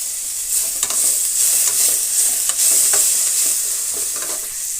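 Tomatoes and turmeric sizzle steadily in a hot pan, a bright continuous crackle broken by repeated scraping stirs of a spoon, close and with no talking.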